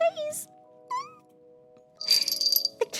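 A small kitten meows a few short, high calls near the mic, followed by rustling and a brief clatter toward the end.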